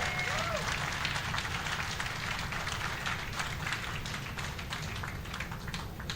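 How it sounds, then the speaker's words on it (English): Crowd applause for off-road racing event staff at the Ultra4 season wrap-up, steady diffuse clapping at moderate distance over a low rumble of background noise. "I'd like you guys to give a round of applause for the Ultra Force staff"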